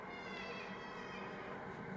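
A pet cat chirps and meows continuously at close range over a steady background hum, with no clear gaps between the sounds.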